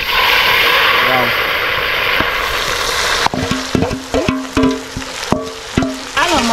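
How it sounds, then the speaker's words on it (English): Onion mixture with lemon juice and pounded seasoning stirred in hot oil for Senegalese yassa, a steady sizzle for the first few seconds, then repeated scraping and clattering strokes in an irregular rhythm, close and fairly loud. "it's being stirred inside the oil"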